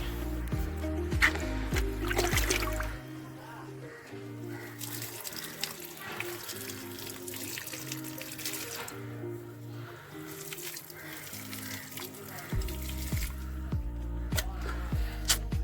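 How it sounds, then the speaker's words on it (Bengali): Water pours and splashes onto flower plants, with bursts of running water at the beginning and again near the end, and quieter trickling between them, over background music tones. "জলটা দিয়ে দিই গাছে"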